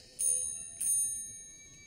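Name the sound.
small hand bell rung for yes or no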